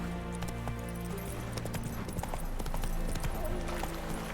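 Roach, the horse in the video game The Witcher 3, gallops with a steady, rapid clip-clop of hooves over a constant low ambient rumble, fairly quiet and continuous with no talking.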